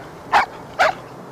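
A dog at the Ohlone Dog Park, a fenced city dog park in Berkeley, California, gives two short sharp barks about half a second apart, close and clear over quiet background.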